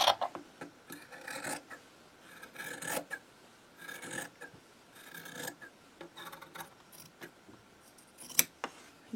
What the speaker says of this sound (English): I'm also going to trim this now down to the edge of the cloth.